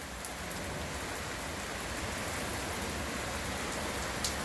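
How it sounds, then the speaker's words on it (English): Heavy rain pours steadily during a night tornado storm, a dense, loud, continuous hiss of drops beating on surfaces close by, with no voices heard. "Got shot with rain again."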